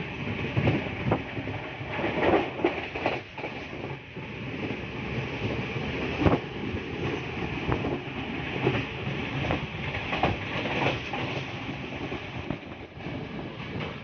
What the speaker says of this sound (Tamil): இப்ப நாகொல்ல ஹம்மல இருந்து 6:30 மணிக்கு சரியா ரெயின் வெளிக்கிடுது.